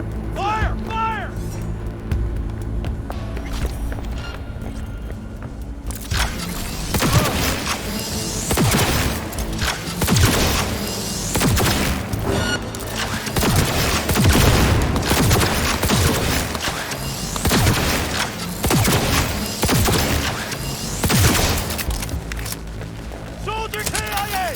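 Dense, continuous gunfire and heavy impacts in the video game Cyberpunk 2077, played on Very Hard, with rapid overlapping shots and crashes running nearly the whole time under a talking voice.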